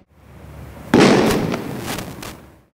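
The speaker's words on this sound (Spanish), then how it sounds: "Vea lo que provocan estos dos tipos de cohetes" One loud firecracker bang bursts out after a rising hiss during a civil protection demonstration, followed by a few crackling pops that fade over about two seconds.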